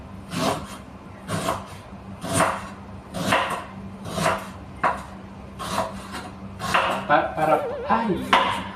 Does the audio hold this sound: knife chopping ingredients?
yes